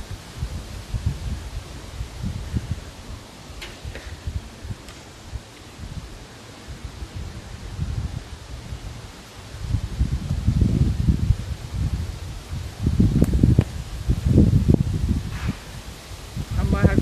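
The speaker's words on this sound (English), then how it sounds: "I like the wind when it's high like this." Strong gusty wind buffets the microphone outdoors on a deck, with rumbling surges and leaf rustle growing louder in the second half, while a person talks intermittently.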